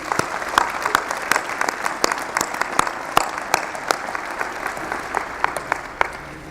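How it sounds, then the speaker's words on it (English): Audience applause at a university winter commencement ceremony for professional and graduate degrees, a steady wash of clapping with sharp individual claps standing out, filling a large hall without speech. "Let's give them a round of applause."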